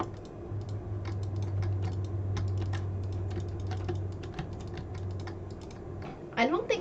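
Computer keyboard keys are tapped in quick irregular clicks throughout, close and clear over a steady low hum, ending with a brief rising sound.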